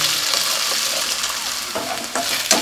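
Onions sauté in hot oil for a Tamil mutton and chicken feast, giving a steady, close, fairly loud sizzle with a few spoon stirs and scrapes toward the end, and no voices.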